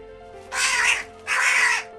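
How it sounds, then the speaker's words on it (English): An albino white crow found in Goa gives two loud, harsh caws, each about half a second long and close by, separated by a short pause over a faint steady hum. "This is the first white crow reported in the state."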